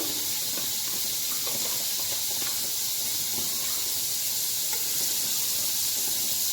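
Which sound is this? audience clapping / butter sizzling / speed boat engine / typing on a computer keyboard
butter sizzling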